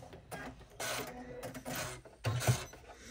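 An embroidery machine stitches a mini tote bag up close, whirring and clattering mechanically in short uneven bursts with brief pauses and no talking, and the stitching is coming out wiggly.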